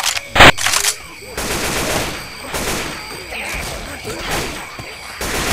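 Gunfire in Left 4 Dead 2 against mud men: a sharp loud shot near the start, then scattered bursts, impacts and crashes over a busy, chaotic game soundscape.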